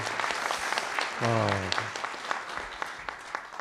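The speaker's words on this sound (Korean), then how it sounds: "예, 박수 크게 치시죠." Breakfast lecture audience in Korea giving steady, full applause, many hands clapping continuously, with a short spoken voice cutting in over the clapping partway through.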